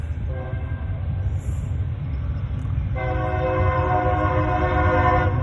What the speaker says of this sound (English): That was a train behind me.